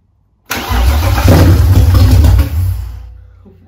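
A BMW M52B30 inline engine cranks and fires for its first start, catching quickly into a loud, rough run for about two seconds before the revs drop away, with no talk.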